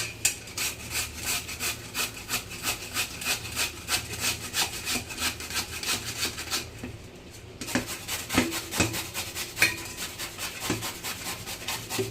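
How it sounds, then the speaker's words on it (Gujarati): Beetroot rubbed against a hand grater, making a close, steady run of rhythmic rasping strokes, roughly two per second, with one brief pause midway and no talking. "આ છીણીથી આપણે એને છીણી લઈશું."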